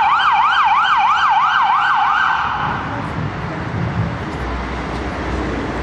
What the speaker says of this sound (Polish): Nadjeżdża druga karetka pogotowia.